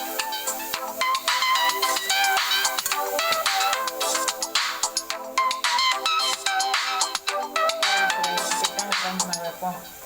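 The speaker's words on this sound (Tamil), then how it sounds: "ஒரு ஃபோன் வருதுங்க, பேசிட்டு வந்துடுறேங்க." A phone ringtone plays loud and steady for about ten seconds in a home kitchen, a bright repeating melodic tune sounding continuously alongside light voice activity.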